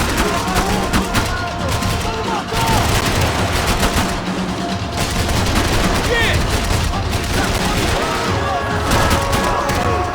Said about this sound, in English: I can't concentrate with bullets pushing past my head!